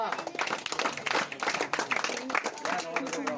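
Guests at a small lockdown wedding clap in a quick, uneven patter, mixed with people talking nearby.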